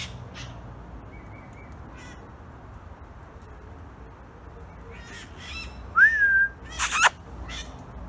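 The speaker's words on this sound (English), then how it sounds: "Just got home and there's parrots out back." Parrots call from the back yard of a house, a few scattered squawks and one clear whistled cry near the end over quiet outdoor background, moderately distant.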